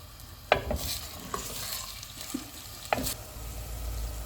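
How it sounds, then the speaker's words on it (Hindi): Onions frying golden in hot oil for mutton kunna, with a soft steady sizzle and a few sharp stirring scrapes near the start and again toward the end. "ऑयल गर्म हो गया, इसमें प्याज डाल देंगे। प्याज को हम गोल्डन फ्राई करेंगे।"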